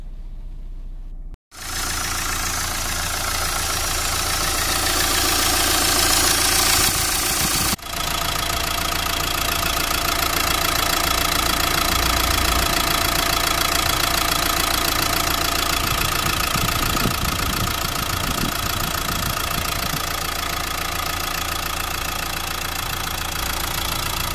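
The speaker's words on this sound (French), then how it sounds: "Écoutez le moteur avant et après la réparation." A Renault Megane 3 engine with an injection fault idles steadily and loudly for a long stretch, with a continuous rumble and a faint rhythmic knock, after a brief cut near the start.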